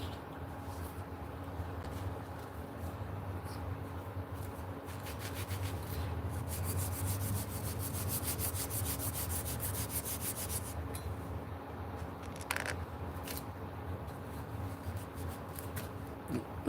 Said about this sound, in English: Let's put some sandpaper on this. See if we can get some of this junk off the handle first.